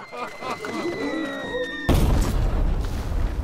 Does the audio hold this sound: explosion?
yes